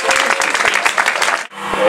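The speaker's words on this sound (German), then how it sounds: "Dafür auch einmal Applaus." Crowd applause at the EC Bad Nauheim ice hockey team presentation arrives as a quick burst of clapping that breaks off abruptly. A voice then speaks over a loud hall.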